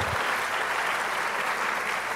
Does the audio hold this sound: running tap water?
no